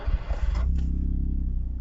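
A Smart car (451) engine restarting: a brief crank, then the engine catches and settles into a low, steady idle rumble, close and fairly quiet.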